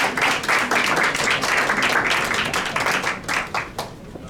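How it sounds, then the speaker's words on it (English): An audience at a United Nations side event claps for a Namibian member of parliament, producing loud, dense, sustained applause that tapers off toward the end. "Let's give him a round of applause, please."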